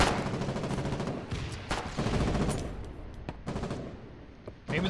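Rapid bursts of gunfire and heavy impacts from 120mm artillery shelling on the east safehouses of Therizo in the war game Foxhole, dense and continuous with sharp loud cracks throughout.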